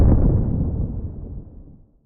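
A Skyrim destruction-magic impact effect: a single heavy, dark boom hits at once and decays into a crunchy rumble distorted with Decapitator, fading out over about two seconds.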